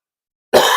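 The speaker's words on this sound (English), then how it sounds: "Sorry about the coughing" A single close, abrupt cough bursts out after a moment of silence and carries through to the end.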